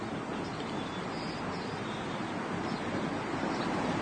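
Steady, dense rushing water from a fast mountain stream fills the scene without a break, a constant broadband roar close by.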